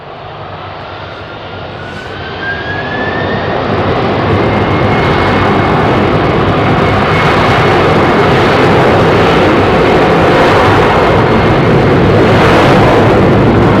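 A Cathay Cargo Boeing 747-8F freighter takes off from London Heathrow, its jet engines building from a distant whine to a loud, sustained roar that swells and holds steady for many seconds, with no one speaking.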